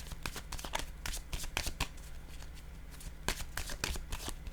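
Tarot cards being shuffled by hand, a quick series of crisp riffling flutters and soft slaps, close and fairly quiet, in irregular bursts with no talking.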